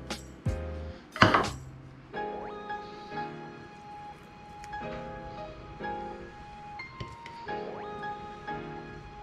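A knife chopping red onion on a board for a tuna pizza, a series of scattered knocks and cuts with a few louder clatters early on, close and alone without talk.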